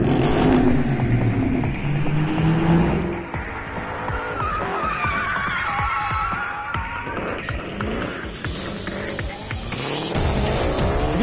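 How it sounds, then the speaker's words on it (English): At Laguna Seca, a Mercedes C63 AMG coupe drifts with loud engine roar and sustained tire squeal, its revs rising and falling as the tires screech through slides. "AMG upped the ante and gave its fans a minute and a half of their C63 AMG coupe drifting around Laguna Seca"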